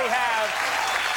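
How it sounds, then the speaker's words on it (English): Studio audience at a late-night television monologue applauding steadily, a dense, sustained wash of clapping throughout, with a faint voice briefly over the start. "let's not applaud yourselves that long"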